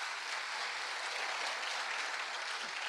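Steady, dense applause from a church congregation at a Brazilian leadership conference evening service, a broad even wash of clapping that holds without a break throughout.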